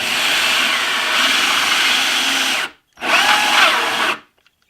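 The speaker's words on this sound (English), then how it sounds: "Going to position this here, drill through." A power drill bores through a plastic bin, a loud continuous whine running for nearly three seconds, stopping briefly, then drilling again for about another second before cutting off.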